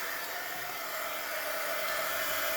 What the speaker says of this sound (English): So I'm going to use my heat tool.